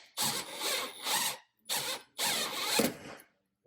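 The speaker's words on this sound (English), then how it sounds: "Line it up straight. Tighten it. Watch the bolts expand." Expansion bolts are tightened to mount a wall charging cable organizer, in three separate bursts of close ratcheting, gritty mechanical noise with short pauses between them.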